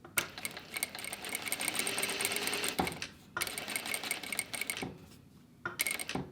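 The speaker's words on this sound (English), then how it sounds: "So it helps to decrease the stitch length and sew." A Juki industrial sewing machine stitching a small curve runs in fast rattling bursts, close and loud, with brief stops between runs.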